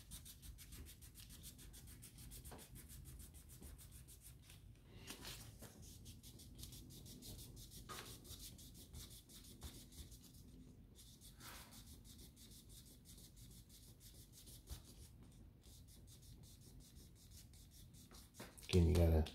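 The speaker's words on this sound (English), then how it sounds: "Hit it with some sandpaper here." A Morgan silver dollar coin ring being sanded by hand with sandpaper, a quiet steady rasping rub repeating in a fast back-and-forth rhythm for a long stretch, close and alone.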